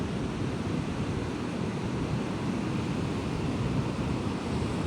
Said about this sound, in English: This water is flowing into the ocean